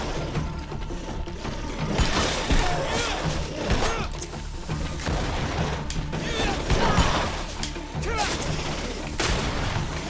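Bomb thrown and exploding in the video game Greedfall, with repeated bursts of blasts and clashing combat impacts spread across the moment amid dense, noisy action.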